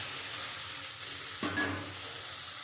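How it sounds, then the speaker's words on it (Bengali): Prawns fry with spices in a pan under a steady, hissing sizzle, with a single clear scrape of a stirring spoon midway through. "তা চিংড়ি মাছটা দিয়ে আমি মশলা দিয়ে একটু কষিয়ে নিলে কি মশলাগুলো ঢুকে যাবে"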